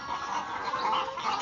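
Chickens on a poultry farm with old, broken cages cluck and murmur in a dense, moderately close chorus for a brief moment, with no clear talking.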